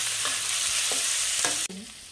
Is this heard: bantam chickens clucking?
no